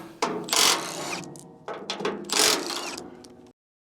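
A ratchet clicks rapidly in two loud bursts, pausing between them, as bolts are backed out of the body panels on a Chinese mini excavator, close up with no talk.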